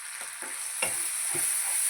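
Chicken with turmeric and tomatoes fries in a pan with a steady, high, hissing sizzle, while a few soft stirring scrapes break through up close.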